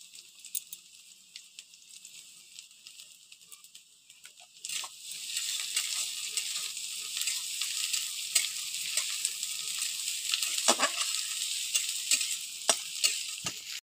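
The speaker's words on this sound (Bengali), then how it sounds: "এদিকে পেঁয়াজটাও প্রায় ভাজা হয়ে এসছে।" Onions frying in a pan with ginger, garlic and green chili, a quiet low sizzle that jumps to a louder, steady crackling hiss partway through, broken by occasional stirring scrapes, with no one talking.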